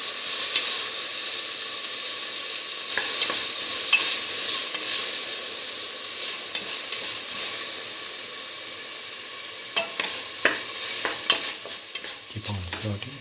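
Tomato pieces are sautéed with a cooking mixture in a pan: a constant hissing sizzle broken by repeated spatula scrapes and stirring clatters, close and fairly loud throughout.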